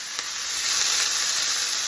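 Chopped celery, peppers and onion sizzle steadily in hot melted bacon fat, a close, continuous frying hiss with a fine crackle that swells slightly after the first moments and holds throughout.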